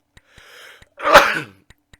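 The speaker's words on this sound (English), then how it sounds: "Sorry for the sneezing, by the way." A single sharp sneeze bursts out loudly at close range, preceded by a faint indrawn breath and a few soft clicks.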